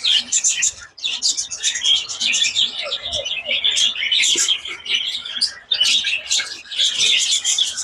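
Pet birds in a breeding setup, including young chicks, chirp and tweet in dense, continuous high-pitched bursts at close range, with a few brief pauses.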